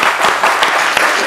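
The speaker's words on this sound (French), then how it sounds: "On peut les applaudir bien fort." A television game show studio audience bursts into loud applause, a dense burst of clapping filling the whole short moment.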